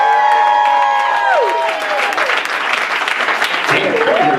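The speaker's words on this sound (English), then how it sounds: "I haven't heard a round of applause like that in a long time." Audience at a poetry and open-mic night breaks into loud sustained applause with cheering and whoops, a dense crowd roar filling the whole stretch, with a few voices calling out over it.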